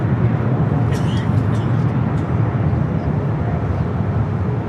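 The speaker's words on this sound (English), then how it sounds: "This is LL Flight 6 taking off to Tel Aviv on the 787-9 Dreamliner Shalom" An El Al Boeing 787-9 Dreamliner taking off from LAX, a loud continuous low engine roar heard from a distance, with faint chirps above it.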